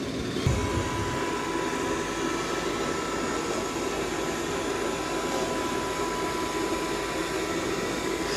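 Dreame X40 Ultra robot vacuum running steadily while vacuuming and mopping, with a broad whirring hiss and a faint hum throughout, plus a brief mechanical shift near the start as its mop arm extends.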